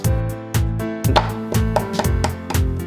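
Coriander roots and garlic being pounded and crushed for a Thai pineapple and pork belly clear soup, a steady series of sharp, loud thuds roughly every half second, up close with no talking.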